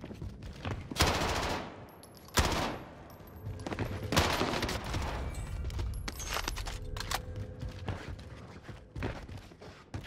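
Bursts of automatic XM4 rifle fire ring out in Call of Duty Warzone on Rebirth Island, several sharp volleys spread across the clip amid softer game noise and footsteps.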